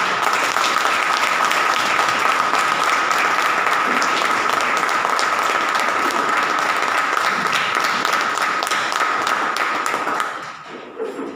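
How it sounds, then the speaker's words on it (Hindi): An audience at a company business training event gives loud, sustained applause for about ten seconds. The dense clapping stays steady, then tapers off at the end. "एक बार जोरदार ताली दीजिए।"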